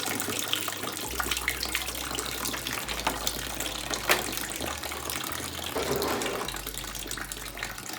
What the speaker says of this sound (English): on the left, water's flowing through